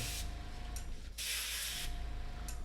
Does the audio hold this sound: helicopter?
no